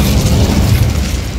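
An Incendio fire spell bursts in Hogwarts Legacy, a short dense roar of flame with heavy low rumble that holds steady for about a second and a half.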